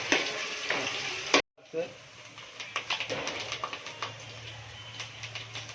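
Ginger is stirred into a sizzling misal mixture frying in a pan at home. A loud hiss gives way after a brief gap to quieter frying and a run of close scraping stirs.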